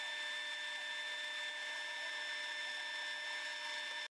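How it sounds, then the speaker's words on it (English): A steady scraping whine of a round-nose scraper cutting the outside of a spinning hickory bowl on a lathe runs without pause, then cuts off abruptly at the end. "using a round-nose scraper here to clean up the outside of the project"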